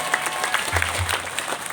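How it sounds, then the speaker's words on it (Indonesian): An audience at a Maulid Nabi religious gathering claps briefly, a dense patter of many hands, steady and moderately loud throughout. "Tepuk tangan"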